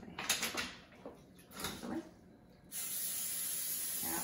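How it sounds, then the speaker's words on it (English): Cooking spray hisses onto a pancake griddle in a few short, quiet bursts, followed by a steady faint sizzle-like hiss. "like I said, cooking spray"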